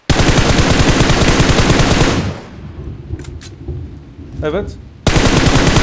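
Loud bursts of rapid automatic gunfire in PUBG Mobile open and close the moment, separated by a quieter stretch with a brief spoken word.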